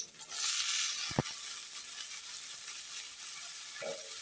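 Ingredients for pui mituri, a Bengali Malabar spinach dish, sizzle steadily in a hot pan, a continuous bright hiss with a brief clatter of stirring partway through and no talking.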